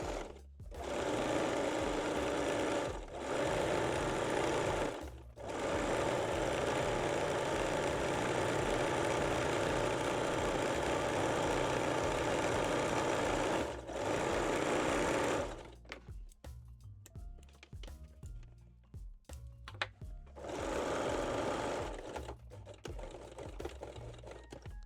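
A sewing machine basting and stitching elastic onto the waistline of mesh-back Brazilian panties runs in loud, steady bursts with brief pauses, then falls to quiet handling clicks before one more short run.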